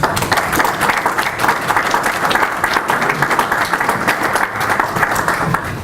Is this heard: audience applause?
yes